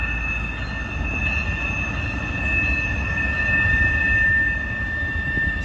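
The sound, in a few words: CSX freight train passing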